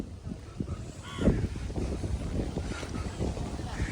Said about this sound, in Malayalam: കായൽ നല്ല കാറ്റടിക്കുന്നുണ്ട് കേട്ടോ